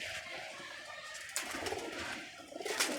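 Pigeons coo softly in a loft, with low repeated cooing calls over a faint background of rustling and movement.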